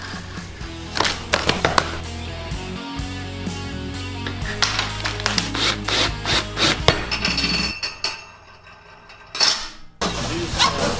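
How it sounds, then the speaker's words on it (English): Cardboard is cut into 22-inch circles with repeated scraping and rasping cutting strokes, irregular and fairly loud, with thumps and handling noise between strokes. "So we'll cut us some 22-inch diameter circles out of cardboard."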